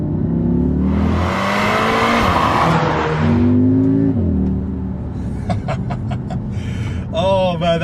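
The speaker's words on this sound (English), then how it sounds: "welcome to the Audi SQ2, a compact SUV that can do this." An Audi SQ2 compact SUV accelerating hard, the engine note climbing through the gears with a loud rising roar near the listener, then easing off, followed by mechanical clicks and a short whine.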